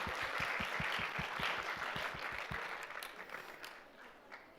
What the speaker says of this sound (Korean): 우리 박수로 축하해 주겠습니다.